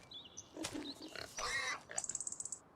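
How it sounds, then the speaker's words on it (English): Several pigs grunt and snort close by in a pen on an Iowa farm, rough bursts through the middle, followed by a quick run of short rhythmic squeaky snorts near the end. "See some big old fat pigs in there."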